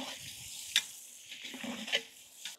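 Finely chopped onion sizzling in hot oil with cumin, mustard seeds and curry leaves, a steady close frying hiss broken by a few sharp stirring scrapes, no talk.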